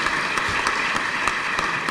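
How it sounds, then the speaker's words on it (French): Dense, steady audience applause at a debate meeting, a continuous wash of many hands clapping throughout without a break. "vous pouvez applaudir"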